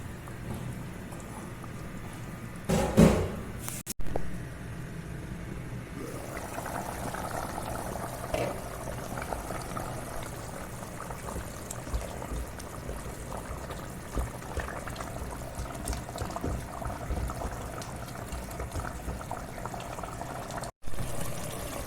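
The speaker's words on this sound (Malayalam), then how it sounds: "നല്ലോണം പൂട്ടി വെച്ചിട്ട് ഒന്ന് വെന്തോട്ടെ" Ginger chicken simmers in a covered pan, giving a steady soft bubbling and sizzling crackle throughout, with a brief louder clatter near the start.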